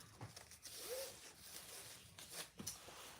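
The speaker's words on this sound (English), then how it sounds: "Let me get my zipper." A zipper for a crossbody bag sewing project is handled up close, with short scratchy rasps, a quick pull and small clicks, faint and isolated.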